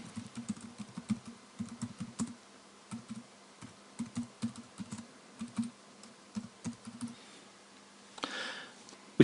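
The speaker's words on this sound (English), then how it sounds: "So I'll type that in." Close typing on a computer keyboard comes in short bursts of quick clicking keystrokes separated by brief pauses, with a faint rustle near the end and no talking.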